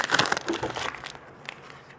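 A half sheet of paper is crumpled up tight by hand, with close, crisp crinkling and crackling bursts that are dense at first and then thin out and grow fainter.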